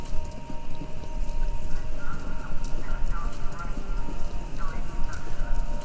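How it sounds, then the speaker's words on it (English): Horses gallop in a race, their clip-clop hoofbeats heard as a steady, dense drumming through a radio station in the Kentucky Route Zero game, with a faint tonal hum behind it. "Sounds like horses. Horses running? A race?"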